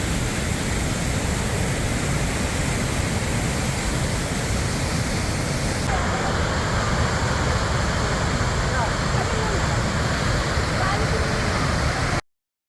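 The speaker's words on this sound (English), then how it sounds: "the Athabasca River cascades over hard quartzite into the softer limestone below, carving a fascinating narrow gorge" The Athabasca River cascades over hard quartzite at Athabasca Falls into a narrow gorge, a dense, steady roar of rushing water that continues unbroken before cutting off abruptly at the end.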